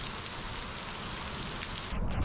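Heavy rainstorm pouring over a rural property after months of drought, a dense, steady roar of rain with water flowing, loud and continuous with no voices.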